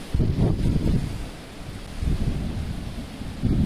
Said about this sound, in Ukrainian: Такі різкі пориви вітру